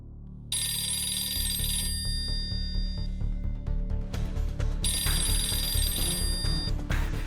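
A telephone rings in two long bursts of bright, trilling bell tones, loud and close, with low rumbling background noise running underneath throughout the scene from a Hindi-dubbed South Indian action film.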